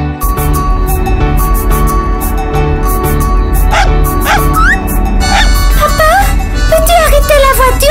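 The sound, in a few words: puppy barking on the road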